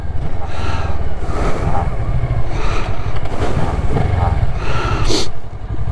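A Kawasaki ER-6n motorcycle rides along a road in the UK with loud, steady engine drone and heavy wind buffeting throughout, as another bike passes by.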